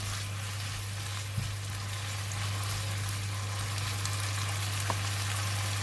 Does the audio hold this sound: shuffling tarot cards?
no